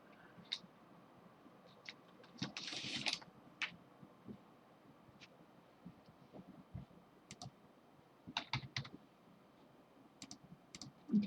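Password keystrokes tapped on a computer keyboard, a few scattered clicks and then short quick bursts of keys, close but quiet over a low room hum.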